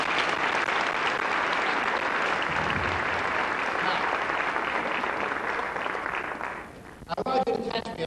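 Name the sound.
audience applause for volunteer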